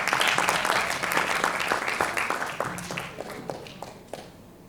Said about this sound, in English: Please give Aurora a round of applause.